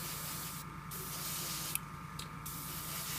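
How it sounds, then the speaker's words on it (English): An airbrush spraying paint gives a steady close hiss with a hum beneath, broken by a few short pauses in the airflow. "The nice thing about the airbrush is you can just kind of go to every angle where the spray can is more difficult to do"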